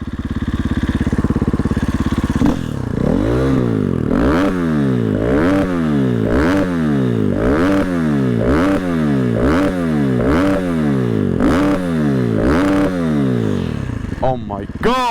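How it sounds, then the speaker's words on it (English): Motorcycle engine on a costly custom bike build revved repeatedly, loud and close: a brief steady run, then about a dozen rhythmic rising-and-falling throttle blips in quick succession, cut off at the end by a brief clatter. "Gebel promised to give you guys a sound check of the bike"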